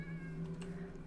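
A cat in the video game Minecraft lets out a single short, soft meow, faint and close, over a quiet low background hum.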